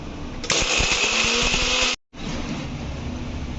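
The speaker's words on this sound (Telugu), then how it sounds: "ఓకేనండి, మిక్సీ ఆడదాం." A mixer grinder pulverises biryani masala spices with a loud, harsh whirring burst, cuts out briefly, then starts again and keeps running steadily.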